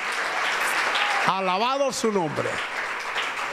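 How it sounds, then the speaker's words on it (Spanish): A church congregation applauds through a worship service, a steady broadband clatter of clapping that carries on under a voice briefly speaking over it. "Demos un aplauso al Señor en esta hora."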